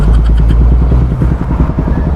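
A motorcycle running with its exhaust silencer removed gives a loud, close, raw engine roar with a fast, rough pulsing beat. It sounds alone, with no talk.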